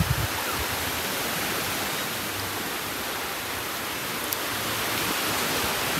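Ocean waves break on a Boracay beach at high tide in a dense, continuous broadband roar of surf. It is steady and fairly loud, with no voices.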